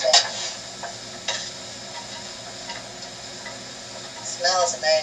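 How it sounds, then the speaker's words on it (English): Sausage, onion, celery and garlic sautéing in a pan, a soft steady sizzle with occasional spoon scrapes and stirring clicks, a bit louder at the start and end. "The sausage, the onion, the celery, and the garlic have been sauteed."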